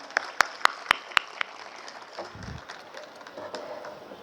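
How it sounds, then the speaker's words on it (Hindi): A handful of sharp, evenly spaced hand claps from the audience after a devotional bhajan at an anniversary function, loud and close at first, then giving way to faint room murmur. "एक बार जोरदार तालियां बजाइए"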